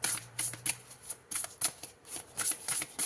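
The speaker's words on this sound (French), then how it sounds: "on va prendre une dernière carte" Tarot cards are shuffled and drawn from a deck, a close series of quick papery riffles and flicks in irregular bursts, with no voices.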